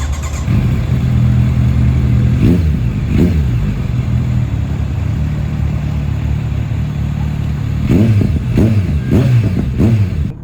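A Kawasaki Z900 SE motorcycle with an aftermarket exhaust idles with a deep, steady burble, then its throttle is blipped, giving a few sharp revs near the start and a quick cluster of revs toward the end.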